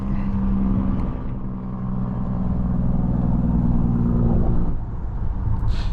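A 2025 Volvo XC90 T8 plug-in hybrid SUV driving in Drive mode, heard from the cabin as a steady low road and drivetrain rumble with a brief dip near the end.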